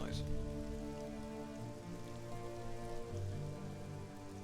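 Steady rain patters outdoors, blended with rain sounds from the game Final Fantasy 14, a continuous wash of drops that holds even and moderately loud the whole time, with low tonal hum underneath.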